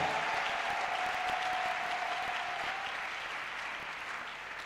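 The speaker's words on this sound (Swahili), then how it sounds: "Mchapie Bwana makofi." A church congregation claps together in sustained, dense applause, loud and close, with a faint tone ringing beneath it as the clapping slowly eases toward the end.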